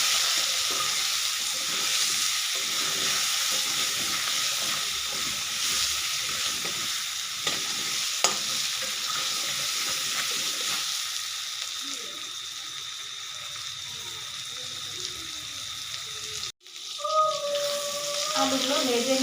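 Potatoes fry with turmeric and salt in a pan, making a steady close sizzle broken by stirring scrapes, with a sharp clatter near the end followed by quieter hiss and a faint tonal hum.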